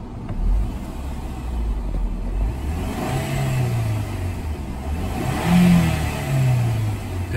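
A 2008 Audi A4 2.0T engine, just fitted with a new diverter valve, idles close by and revs up twice, dropping back between the blips. No talking is heard.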